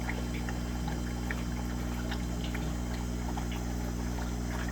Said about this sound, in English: There's just a small drip to get them fresh water